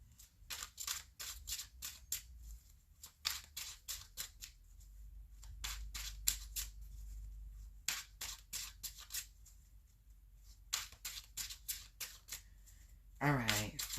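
Tarot cards are shuffled by hand for a reading in quick close riffling bursts, broken by short pauses, with a voice speaking at the very end.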